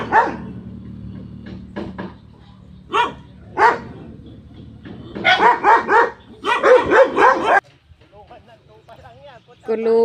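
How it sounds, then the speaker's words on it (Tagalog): Several dogs barking outdoors, with loud, close bursts of barks and yips coming in clusters, some overlapping, followed by a quieter stretch with a few fainter whimpering calls. "Daming aso."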